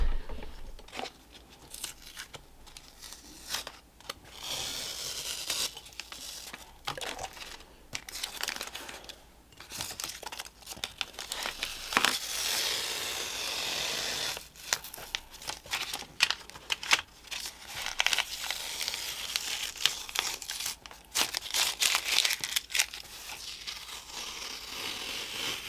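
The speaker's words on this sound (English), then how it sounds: "let's do the tape peel, and then I think this little pen and ink sketch is done" Masking tape being peeled off the paper of a pen and ink watercolor sketch, heard close up as long crackly tearing strips with brief pauses between pulls and faint paper handling, no talk.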